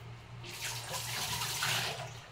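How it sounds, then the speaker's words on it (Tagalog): Tap water runs steadily into a sink while cooking pots are washed, a close, broad rushing hiss that swells slightly and holds with no talking. "maghuhugas pa ako ng mga kaldero na gagamitin namin mamaya"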